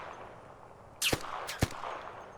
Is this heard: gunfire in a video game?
yes